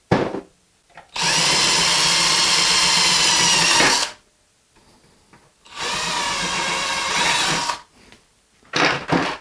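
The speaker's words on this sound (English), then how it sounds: "what I'm going to have to do is just drill these holes a little bit bigger" A power drill enlarging screw holes for replacement fans whines loudly in two long bursts of about three and two seconds, separated by quiet pauses, with a short final burst at the end.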